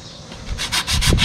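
Rusty parts of an M&W 1500 round baler are scraped by hand, a series of four or five rough, rasping strokes growing louder and faster up close, with no talking.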